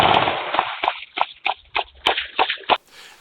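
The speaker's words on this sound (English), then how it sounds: "it seems like there's fully automatic gunfire reverberating throughout a neighborhood street in a residential area" Fully automatic gunfire in a residential street: a rapid string of about ten sharp cracking shots in quick succession, loud and reverberant between houses, cutting off abruptly.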